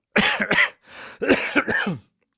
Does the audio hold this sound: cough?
yes